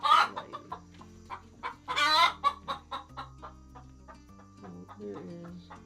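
Several chickens clucking close by in a coop, with a rapid series of short clucks and squawks, one louder burst of agitated calls, and softer murmuring between them.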